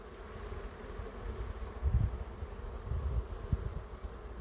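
Honeybees hum at a healthy, brood-filled hive frame during colony balancing work, a steady low drone with a few louder swells as bees pass close.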